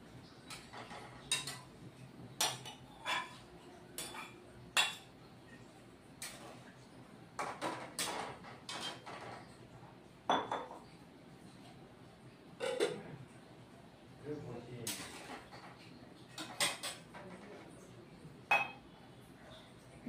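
Fried ridge gourd pieces tipped into a cooking pan for a ridge gourd, potato and poppy seed dish, giving repeated sharp clinks and scrapes of a metal spoon against the pan at irregular intervals, with a quiet background.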